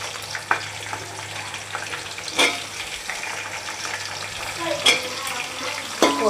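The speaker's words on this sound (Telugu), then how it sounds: "ఇప్పుడు ఆనియన్ వేసుకుందాం." A kilo and a half of onions fry in a pan for basmati chicken biryani, a steady moderate sizzle broken by several brief scraping stirs of the spoon against the pan.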